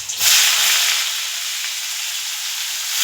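Onion hits hot oil in a wok where boal fish is cooking, setting off a loud, steady sizzling hiss that holds evenly for a few seconds.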